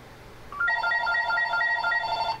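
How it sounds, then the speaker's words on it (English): A telephone rings with an electronic warbling tone, repeating steadily and loudly close by for about two seconds after a short lead-in, with no talk over it. "the phone is ringing"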